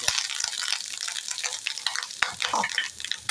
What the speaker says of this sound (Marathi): पहिला आपण थोडं परतून घेऊया आणि ह्याच्यात लगेच आपण गूळ घालून घे